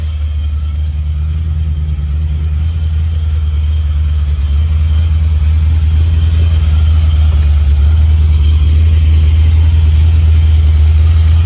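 A 1972 Ferrari Daytona engine running at a steady idle, a loud, deep, continuous rumble heard up close without any voices.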